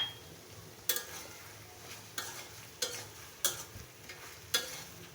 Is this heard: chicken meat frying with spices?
yes